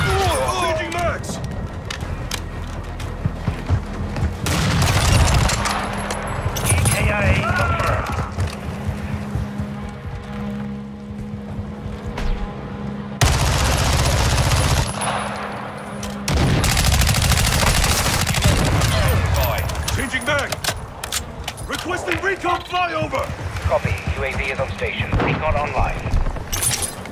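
Rapid bursts of gunfire ring out in a Call of Duty: Modern Warfare II multiplayer match, loud and continuous, with overlapping shots and impacts under game voices and music.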